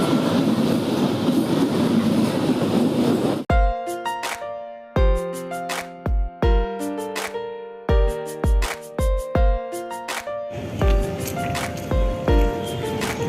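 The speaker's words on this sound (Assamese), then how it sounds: "ইয়াতে হৈ আছে ৰানিং ৰেচ মহিলা ভাৰ্চেছ ট্ৰেইন" A train passes on a railway line: a loud, dense rumble fills the first few seconds, then gives way to a sequence of sharp, rhythmic tonal hits and ringing tones that continue to the end.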